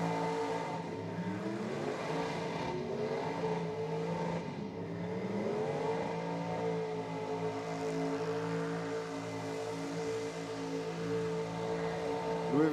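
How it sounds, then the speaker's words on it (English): A drag car's engine revs hard during a burnout at a dragway, a sustained loud roar with rising and falling pitch sweeps heard close to the ground across several seconds. "first burnout car is sent. Lots of RPM, lots of smoke early."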